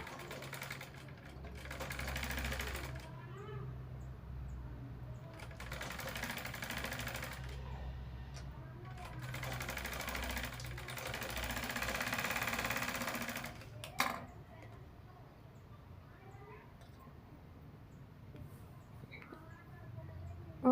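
Sewing machine stitching the lining of a blouse, a steady mechanical whirr in bursts of a few seconds each, separated by short pauses, running close and moderately loud.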